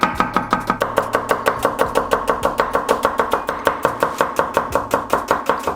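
A knife thinly slicing red onions on a board, with rapid, steady chops repeating evenly and close, about five per second, with no voices.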